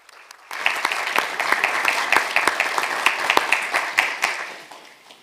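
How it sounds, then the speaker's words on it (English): Crowd applause welcomes Secretary of Defense Lloyd Austin at a defense ministerial meeting, starting abruptly and continuing as loud, close clapping with distinct individual claps throughout. "please welcome him with a big round of applause"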